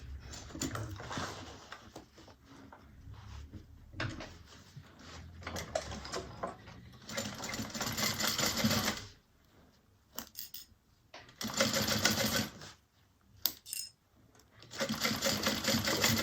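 A sewing machine stitches a handbag seam in several bursts of rapid whirring, starting and stopping with short pauses between runs, close and fairly quiet.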